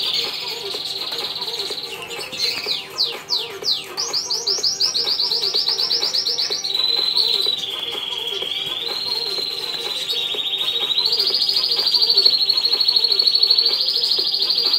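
Goldfinch nestlings chirp loudly and continuously, with a shrill, rising begging chorus that wavers throughout. Faint background sounds sit beneath it.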